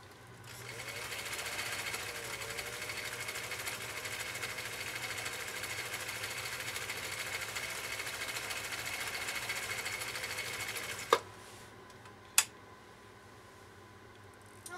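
Brother sewing machine running a decorative stitch, a steady even motor whir with rapid needle rhythm for about eleven seconds, then stopping, followed by a couple of sharp clicks.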